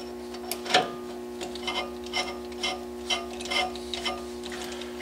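A socket spun by hand onto a Dana 44 axle nut, giving a close, steady run of light metallic clicks at a regular ticking rhythm with no voices.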